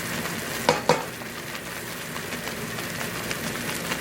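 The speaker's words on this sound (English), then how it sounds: "you kind of stir that up, let it melt" Sauce melting in a pan for shrimp and lobster alfredo pasta is stirred, giving a soft continuous sizzle with two sharp utensil clinks near the start.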